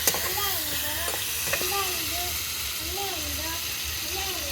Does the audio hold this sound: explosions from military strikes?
no